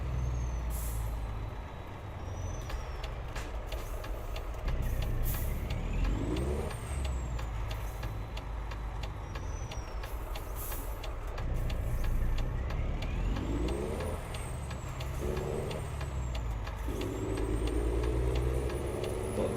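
In Euro Truck Simulator 2, a truck engine pulls a trailer, with a steady low drone that rises in pitch through the gears and hisses of air brakes.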